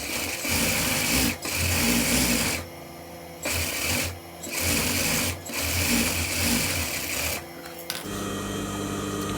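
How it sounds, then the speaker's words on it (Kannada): A sewing machine stitches the lining of a blouse in several bursts of fast, rattling whirring, stopping and restarting in short runs at close range, with no talking. "ಇವಾಗ ಇನ್ನೊಂದು ಫೋಲ್ಡ್ ಮಾಡಿ ಈ ಲೈನಿಂಗಿಗೆ ಇನ್ನೊಂದು ಸ್ಟಿಚ್ ಬಿಟ್ಕೋಬೇಕು"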